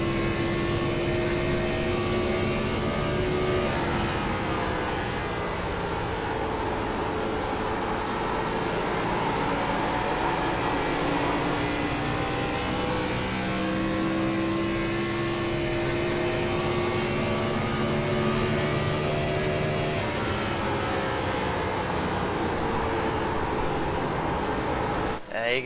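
Gen 4 Cup Series stock cars roar in a sim racing game at Nashville Superspeedway, a steady layered engine drone with rising and falling pitch lines from several cars, loud and continuous throughout with a commentator talking over it.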